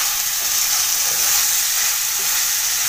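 Peas and cabbage fry in a pan with a steady, close sizzling hiss and soft stirring beneath it. The sound stays even throughout, with no voices.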